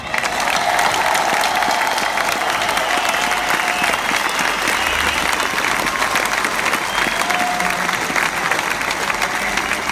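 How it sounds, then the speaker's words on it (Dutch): Warm, sustained applause rises from a big concert crowd of around 5000 at a tribute concert, a thick, even roar of clapping holding steady throughout. "Heren, ik geef u een zeer warm applaus."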